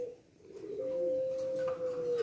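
A young white turtle dove gives a single drawn-out, low cooing note, steady and fairly close, against a quiet background.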